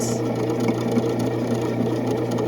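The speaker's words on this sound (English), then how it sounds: "Now it's going to knead one more time." Bread machine kneading wet sourdough dough, a steady mechanical whir and hum with a faint rhythmic churn, close and continuous with no talk.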